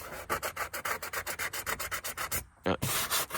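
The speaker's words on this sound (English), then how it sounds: "so I'll sand around it" Old wood on a vintage camper being sanded by hand, fast rhythmic back-and-forth rasping strokes, close and loud, with a brief pause before the scraping resumes.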